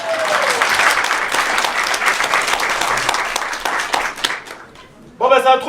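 Audience applause at a comedy troupe's theatre show, dense sustained clapping that thins and fades, followed by a brief louder burst with voices near the end.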